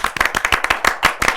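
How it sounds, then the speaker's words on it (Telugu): A small group clapping loudly and enthusiastically during a television interview, a quick burst of dense, sharp handclaps close by, with no talk over them. "గట్టిగా చప్పట్లు."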